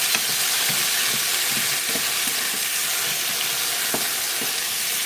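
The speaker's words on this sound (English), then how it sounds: "start to saute that down before I put the green" Garlic sautéing in a hot pan gives a dense, continuous loud sizzle with faint stirring taps scattered through it, close up and without speech.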